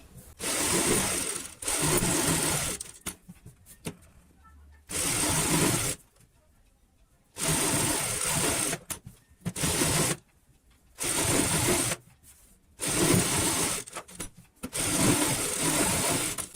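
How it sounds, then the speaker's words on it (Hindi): Sewing machine stitching a cushion cover made from leftover fabric scraps, running in about six short bursts of fast, even mechanical chatter separated by quiet pauses, close up with no talking. "तो यहाँ पे हम पक्की कर लेते हैं सिलाई ताकि यहाँ पे टूटे ना।"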